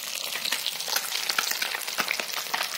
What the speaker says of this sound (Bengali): এদিকে মাছ ভাজতেছি